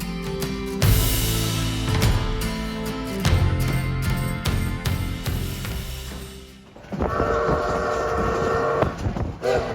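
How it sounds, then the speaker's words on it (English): Durango and Silverton narrow gauge railroad train in Durango, Colorado, heard close and loud with dense rumbling and clanking, then a strong tonal whistle blast in the final seconds. "There's perhaps nothing more iconic to Durango than the Durango and Silverton narrow gauge railroad."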